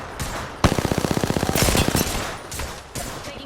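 Automatic gunfire in Apex Legends: a sharp crack, then a rapid, evenly spaced burst of roughly fifteen loud shots. Scattered fainter shots and impacts follow, with no voices.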